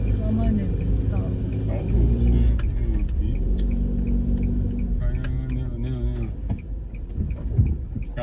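A car engine accelerates with a low rumbling drone that swells and shifts in pitch, while people talk over it in a nearby cabin.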